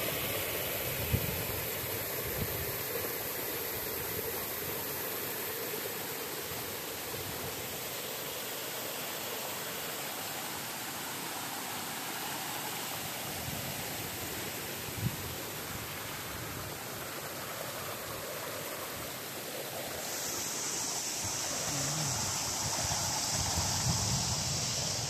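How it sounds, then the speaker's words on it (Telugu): A waterfall at Thonigandla in Medak, a steady broadband rush of falling water filling the scene without pause, with a slight brightening of hiss toward the end and no voices. "water falls"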